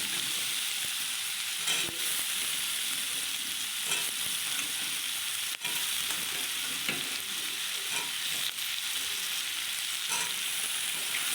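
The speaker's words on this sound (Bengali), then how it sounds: "তারপরে আলুগুলো দিয়ে দিলাম। এই আলুগুলো দিয়ে এবার একটু নেড়ে চেড়ে নেব।" Whole potatoes with their skins on, along with spices, fry in a hot pan for a breakfast curry. A dense, continuous sizzle runs throughout, with occasional stirring scrapes, and no one speaks.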